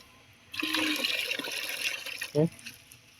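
Diluted plant booster water poured onto young seedlings, a steady liquid splash running for about two seconds, followed by a short louder gush. A voice can be heard speaking briefly.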